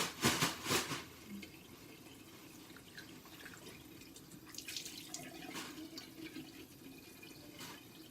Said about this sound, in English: Sorry, I'm just rinsing it.